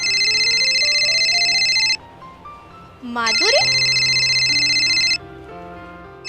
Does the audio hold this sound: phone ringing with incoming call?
yes